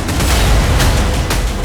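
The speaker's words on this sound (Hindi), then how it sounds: "तोड़ो दरवाजा।" A door is broken down during a police raid in a crime drama, with heavy forceful thuds and cracks packed into a loud, close burst.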